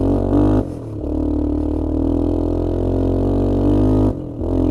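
A small Suzuki 250 ATV engine labours in super low gear below full throttle, a steady droning hum that dips and recovers twice as the load shifts, with no voices.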